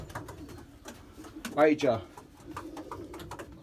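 A pair of pigeons, top middle-distance racing breeders, coo once in a short rolling burst close to the recorder, with someone speaking over and around it.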